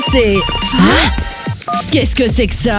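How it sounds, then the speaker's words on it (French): A cartoon telephone that barely works rings in bright electronic tones, interrupted by animated character voices talking and exclaiming over it. "C'est un téléphone, mais il fonctionne à peine maintenant."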